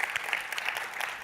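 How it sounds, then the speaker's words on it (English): Audience applause for a demo team at a tech conference session, a steady, dense wash of clapping at moderate volume, brief and continuous without talk. "Let's give a huge round of applause for the demo team here."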